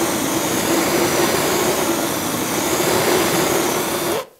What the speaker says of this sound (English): Grab your blowtorch, and you're just going to heat the wire jacket up.